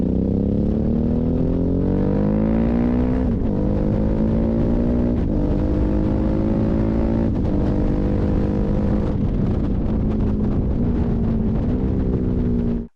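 A 2005 Suzuki DL1000 V-Strom with its large V-twin engine runs loud and close, its deep throb rising and falling through several gear changes as it pulls steadily along with no talking.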